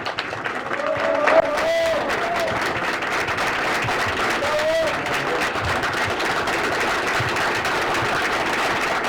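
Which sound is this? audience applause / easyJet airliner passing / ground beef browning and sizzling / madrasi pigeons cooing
audience applause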